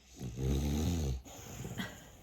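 A dog snores close up: one long, deep rumbling inhale followed by a softer, wheezy exhale.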